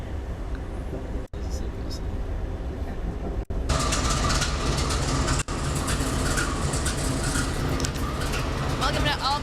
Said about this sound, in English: We took a train from Boston to Chicago